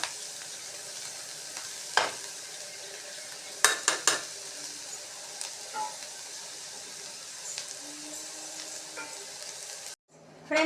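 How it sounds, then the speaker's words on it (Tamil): Vegetables sauté in a pan for a veg dosa, giving a steady broadband sizzle with occasional sharp clinks of a spatula against the pan, heard up close with no talking. "கொஞ்சம் நேரம் வதங்கட்டும்."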